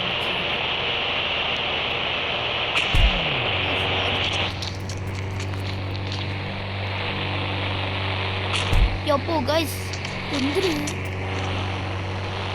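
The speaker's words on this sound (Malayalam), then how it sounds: "പ്ലെയിൻ" A propeller airplane passes overhead, its steady loud drone carrying harmonic hum the whole time, with a person talking over it.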